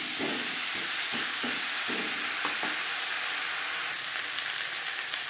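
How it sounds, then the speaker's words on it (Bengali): Steady loud sizzling of taro mixed with salt, turmeric and spices in a pan, with a spoon scraping and stirring in short irregular strokes. "লবণ হলুদ ও মশলা কচুর সাথে বেশ ভালো করে মিক্স করে দেবো।"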